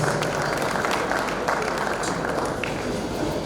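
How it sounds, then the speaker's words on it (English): Sustained applause from an audience welcoming a German delegation, dense clapping filling the room at a steady level throughout, with a few voices faintly mixed in. "Round of applause for them"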